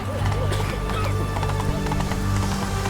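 Roach the horse galloping in The Witcher 3, rapid rhythmic hoofbeats close by over game music, steady throughout.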